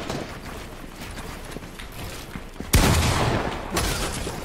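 Gunfire from the video game Fortnite: a sharp, loud burst of shots cracks out suddenly after a stretch of quieter mechanical clicking, followed by a second, briefer volley.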